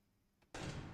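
A door in the Roblox FNAF Pizza Party game opens or shuts with a soft knock, then a sudden loud rush of noise that holds steady to the end.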